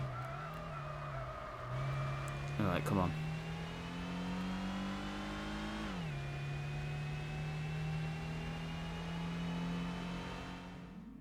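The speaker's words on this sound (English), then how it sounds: "I can hear the supercharged whine from the engine there" A supercharged car engine in the racing game Gran Turismo 4 holds a steady high whine alongside its engine tone, rising and falling with the revs, with a short skid-like chirp early on and someone talking over it.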